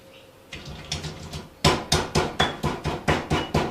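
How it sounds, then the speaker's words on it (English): A pestle pounds Thai green curry paste ingredients in a mortar, around ten dull, close thuds in a steady rhythm that grow heavier after the first few. "Mix that in and keep pounding."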